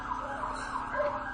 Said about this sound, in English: And there are the sirens and the dogs